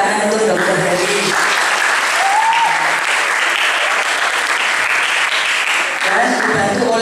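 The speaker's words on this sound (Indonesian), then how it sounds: "tepuk tangan untuk Dr. Heri." Audience applause for Dr. Heri at a community iftar charity gathering, a sustained wash of clapping for several seconds, with a voice heard briefly over it.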